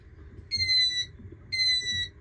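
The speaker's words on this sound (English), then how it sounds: "You turn one on, it'll beep 3 times" Two electronic beeps from a houseboat outboard engine's ignition, each about half a second long, high-pitched and steady, with a short pause between them over a low background rumble.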